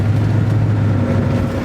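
A steady, loud V8 engine drone from a 1966 Ford Mustang GT, with a low rumbling tone, continuous and close, no voices.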